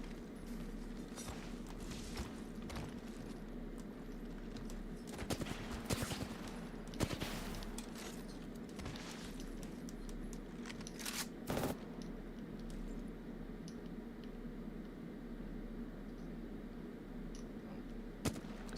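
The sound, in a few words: gunfire in a controller shooter video game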